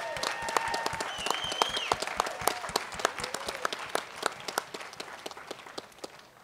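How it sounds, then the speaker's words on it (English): Audience applause at the grand opening of the Levitt Pavilion in Denver, many distinct hand claps forming lively applause that gradually thins, with occasional whoops and cheers from the crowd. "So let's give them a great round of applause."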